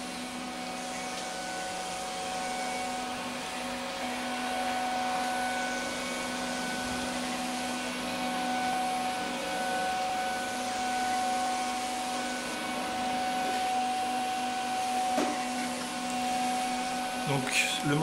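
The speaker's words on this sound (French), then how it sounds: "Nous allons donc maintenant voir comment l'aspirateur s'en sort face aux détritus." Steady whirring hum of a Philips HomeRun robot vacuum cleaner running continuously throughout, with a few faint clicks and bumps near the end.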